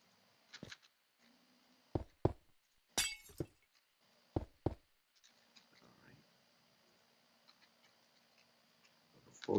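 Glass blocks breaking in Minecraft, a series of short sharp clinking shatters spaced irregularly, loud against a quiet background with brief talk in between.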